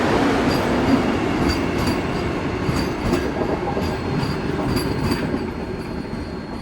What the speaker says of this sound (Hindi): वही अभी अपन को ओवरटेक करके निकल रही है।